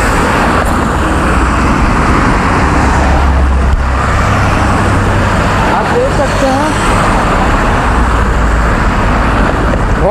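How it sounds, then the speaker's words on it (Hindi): Road traffic beside a beach in Rio de Janeiro, a continuous loud roar of passing cars and heavier vehicles, close by, with voices mixed into the din. "ट्रैफिक है यहाँ पर"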